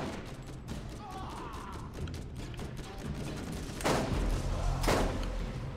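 Enemy gunfire in the shooter game Borderlands, rapid bursts of shots and mechanical clatter at moderate loudness, with two stronger cracks near the end over continuous game ambience.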